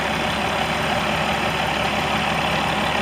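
A 2008 Peterbilt 389 truck with a Cat C15 engine idles close by in a loud, steady, unbroken rumble with no talking.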